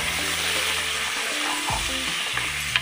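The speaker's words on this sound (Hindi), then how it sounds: "अब हम इस प्याज को अच्छी तरह से ब्राउन कर लेंगे।" Chopped onions fry and brown in a pan for aaloo gosht salan, giving a steady close sizzle with a low tonal hum beneath, continuous and fairly quiet throughout, with no talking.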